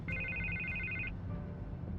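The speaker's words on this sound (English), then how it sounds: "I can't get the phone to stop ringing." A phone rings in a Batman video game, a warbling electronic trill repeating steadily for about a second before it cuts off, then briefly starting again, over a low background hum.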